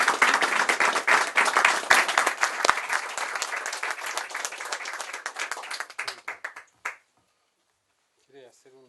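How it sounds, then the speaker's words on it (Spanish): Applause fills a Senate environment commission session, dense clapping from a room of people that thins into scattered claps and stops near the end, followed by a brief voice. "Bueno, un aplauso para esta edición"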